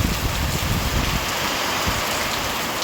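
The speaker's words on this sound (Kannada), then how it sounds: "ಸಡನ್ನಾಗಿ ಮಳೆ ಸ್ಟಾರ್ಟ್ ಆಗ್ಬಿಡ್ತು" A sudden downpour of rain falls steadily and loudly, a dense continuous hiss of drops striking surfaces close by, with a low rumble of wind underneath and no voices.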